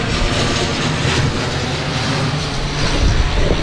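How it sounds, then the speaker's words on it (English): An airplane passes overhead, a loud, continuous engine roar that fills the whole moment without easing. "There's a plane going past"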